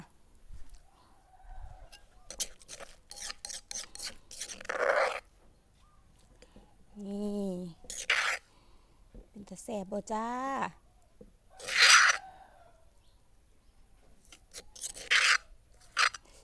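Rough, rhythmic scraping strokes repeat in bursts, a pestle grinding against a clay mortar while making a Thai shrimp and hog plum chili dip, with someone talking in between.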